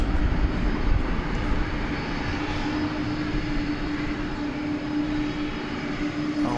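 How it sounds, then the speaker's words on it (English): A tri-jet airliner moves at DFW International Airport, its engines a steady, low, continuous roar heard from a distance and unbroken throughout. "our tri-jet is on the move."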